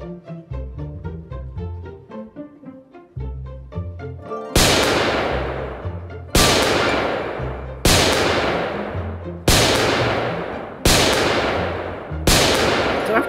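Gunshots at target shooting practice ring out as six loud, sharp cracks spaced about a second and a half apart, each with a long decaying tail, following a stretch of music with no shots.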